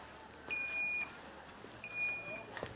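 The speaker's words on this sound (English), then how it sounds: "As soon as the alarm goes off, the water follows." Electronic alarm on a handwashing station beeping in two sustained tones, each lasting about half a second and separated by a pause, heard outdoors over a low background rumble with faint voices.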